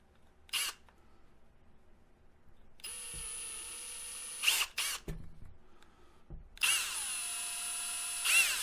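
A power drill whines in several bursts, revving up and stopping as it drives an unshortened screw, with short clicks and clunks between runs.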